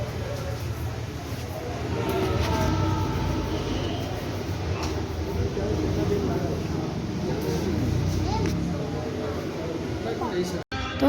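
A train rumbles at a busy Indian railway station, a low continuous rolling drone with a faint clunk near the end, while people talk nearby over the noise.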